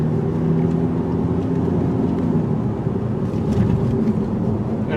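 A 2018 Ford EcoSport drives forward toward a stop sign, heard from inside as a steady low engine hum and road noise with a mild whir, even and continuous throughout.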